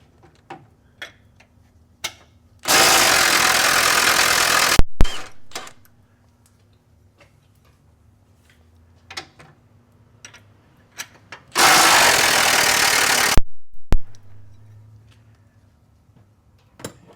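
Two bursts of a pneumatic impact wrench, each about three seconds long, working to free a part under a vehicle during transmission removal, loud and close. Faint clicks and clanks of tools fill the quiet between bursts.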